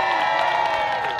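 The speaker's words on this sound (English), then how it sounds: "That's how you guys clap for our future?" A crowd at a live event claps and cheers for a group of kids introduced as The Future, giving a steady, loud wash of applause and shouting throughout.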